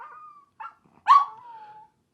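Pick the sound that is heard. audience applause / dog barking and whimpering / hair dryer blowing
dog barking and whimpering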